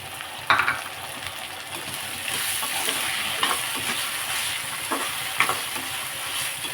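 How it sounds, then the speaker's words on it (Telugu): Tomatoes dropped into a pan with ginger-garlic paste and stirred, a steady loud sizzle with occasional spatula knocks and scrapes, close up with no voices. "టమాటా వేసేద్దాం మొత్తం వేగుతుంది"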